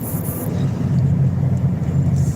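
A car drives through a blizzard in Topeka, Kansas, giving a steady low engine and road rumble with a constant wash of wind and snow noise, loud and close from inside the vehicle.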